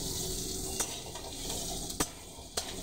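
Onions stir-fry in a pan, with a steady loud sizzle filling the background and a few sharp clicks of a spoon or spatula scraping the pan at intervals, no talk.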